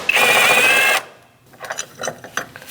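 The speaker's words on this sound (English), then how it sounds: "I'm going to use a 12mm socket with an extension" A socket wrench with a 12mm socket and extension works a battery hold-down bolt loose on a 2020-2026 Toyota Corolla, opening with about a second of dense, loud mechanical whirring, then a run of quieter ratcheting clicks and knocks.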